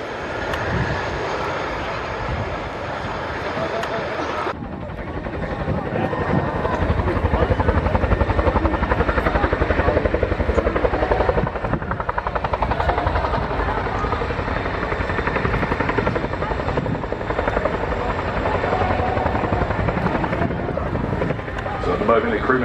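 A Chinook helicopter hovers at the Royal International Air Tattoo military display, its loud, continuous rotor thump and turbine roar filling the air while an announcer talks over it.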